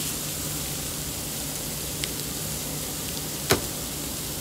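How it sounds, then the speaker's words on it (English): Steady, fine crackling sizzle of bacon frying in a hot pan, with a couple of small pops. "hear that sizzling"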